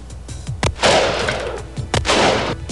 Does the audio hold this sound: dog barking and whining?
no